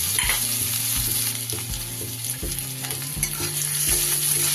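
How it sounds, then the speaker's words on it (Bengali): Chopped ginger and green chilies fry in a hot oil tempering for a spinach and taro ghonto, making a loud, continuous sizzle. Rhythmic spoon strokes scrape and knock against the pan. "এবার দিয়ে দেব আমি সামান্য একটু আদা কুচি, 1 চামচের মতো, আর 2টো"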